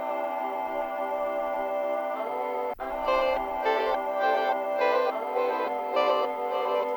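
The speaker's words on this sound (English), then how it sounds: "I added another layer with these pitch correction vocal type sample-y dudes" A layered synth part built from pitch-corrected vocal samples in Logic, playing sustained chords that clash with another synth, with rhythmic pulsing swells in the second half after a brief dropout near the middle.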